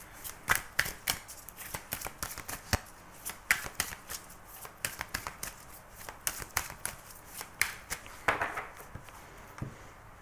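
La Diade oracle cards are shuffled by hand, giving a quiet, steady run of soft riffling clicks and slaps that continues throughout with no one speaking.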